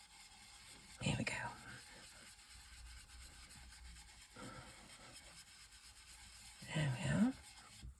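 A brush burnishes gilding flakes onto a surface, making soft, close rubbing and brushing strokes that are mostly faint, with two louder bursts. A quiet voice speaks briefly over the rubbing.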